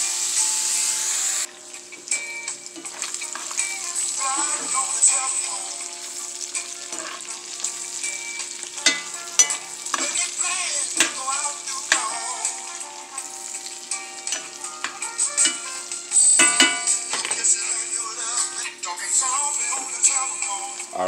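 Bacon sizzles and crackles steadily in a frying pan, a continuous close hiss dotted with quick pops and spatters, with no voices over it.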